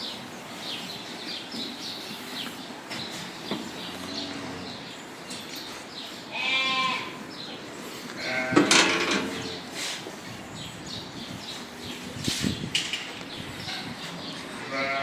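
Sheep and goats crowd a trough of mixed feed in a farm barn, with scattered bleats rising over a steady background of munching and shuffling, one louder cry standing out midway.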